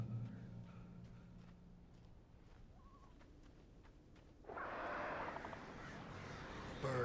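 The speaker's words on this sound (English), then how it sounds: "Birds." Scattered crow-like caws sound faintly from a distance in the game Alan Wake Remastered, then a broad rushing ambience swells and holds to the end.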